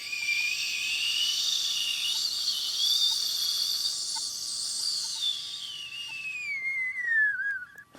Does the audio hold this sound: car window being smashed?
no